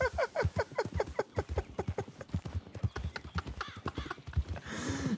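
Horse hooves clip-clop steadily in a video game, a quick even rhythm of close, clear hoofbeats with a brief whinny near the end.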